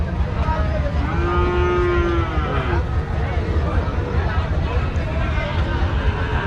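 A cow at the busy Sunday cattle market in Rajshahi, among Sahiwal cattle and calves, gives one drawn-out moo over a constant crowd babble, with people talking nearby.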